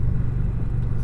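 A 2020 Indian Challenger touring motorcycle engine rumbles low and steady during a demo ride, a continuous close drone with no break.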